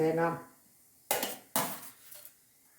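Grated coconut and beetroot stirred in a dry pan over a low flame, two sharp metallic scrapes and clinks of a spoon against the pan following a brief voice.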